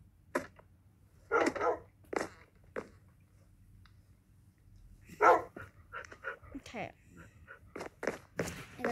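A dog in the Minecraft video game barks in short separated yaps and a few whimpering bursts, spread across the span among footstep-like taps, with people talking throughout.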